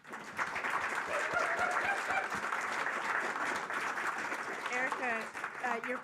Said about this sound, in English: So let's give applause to all these wonderful storytellers that are before us.